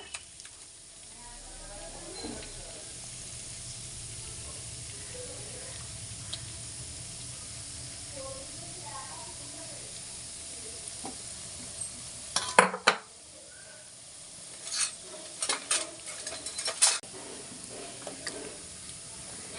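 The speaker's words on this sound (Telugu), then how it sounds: "ఆయిల్ కాగింది ఉల్లిపాయలు వేసుకుందామండి ఉల్లిపాయ ముద్ద వేసుకుందాము" Onion paste fries in hot oil in a clay pot, a soft steady sizzle that runs under a speaking voice. Louder scraping and clinking of a utensil against the pot come toward the end.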